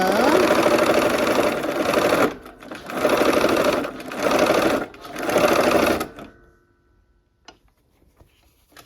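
A sewing machine stitches quilt corner units for a barn quilt sampler, running in four steady bursts of rapid mechanical hum with short pauses between, then stopping, leaving faint clicks and near silence.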